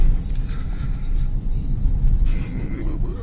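SWM Go 1 F Premium with an automatic gearbox driving on a rural road, heard from inside: a constant loud low rumble of engine and tyres with faint higher rustle on top, no pauses.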